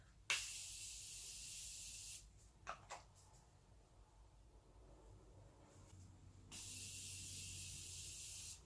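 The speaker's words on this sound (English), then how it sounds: "Going to set everything down using the Morphe Continuous Setting Mist." Morphe Continuous Setting Mist is sprayed onto a face in two long, loud, close hissing bursts, each about two seconds, separated by a quiet pause with faint handling noises.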